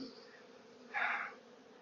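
A honeybee swarm that has fallen to the ground hums in a soft drone, swelling into a louder, denser buzz for a moment before easing back.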